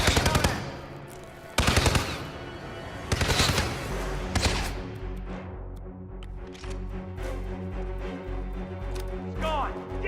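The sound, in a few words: gunfire shooting at player in video game Hitman 2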